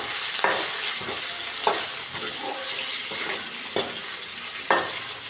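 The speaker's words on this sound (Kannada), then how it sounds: "ಸ್ವಲ್ಪ ಫ್ರೈ ಆಗಲಿ ಇದು." Tomatoes frying in a pan with spices such as cinnamon, cloves, roasted gram and poppy seeds, a close, steady sizzle broken by regular scraping stirs about once a second, with no talk.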